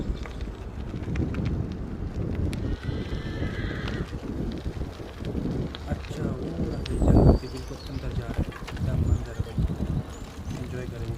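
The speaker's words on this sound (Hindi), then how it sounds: "घोड़े की आवाज़ बहुत तेज़ हो रही है।" A horse in a German forest, with a neigh and hoof sounds rising out of wind and rustling, a louder burst about two thirds through, while someone talks intermittently.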